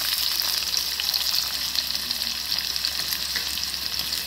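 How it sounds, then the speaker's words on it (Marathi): Mustard seeds, cumin and finely chopped onion fry in hot oil for masala bhindi, giving a steady, close, hissing sizzle with no voices. "मोहरी तडकल्यावर टाकायचं आहे इथे जिरं आणि मोहरी आणि जिरं झाल्याच्या नंतर आपण टाकून घेऊया बारीक चिरलेला कांदा"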